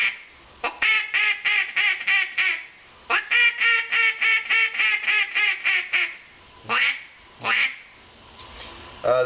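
Duck quacks blown on an inexpensive duck call: two long descending runs of rapid, loud, nasal quacks, then a few separate louder single quacks, close and clear with no talking.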